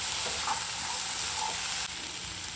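Food being stirred and mixed in a hot pan, a bright continuous sizzle with soft scraping strokes, close and fairly quiet, no talk.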